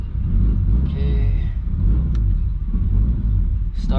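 Turbocharged BMW E36 engine held at a steady idle with throttle blips, a continuous loud low rumble with brief higher revving near the end.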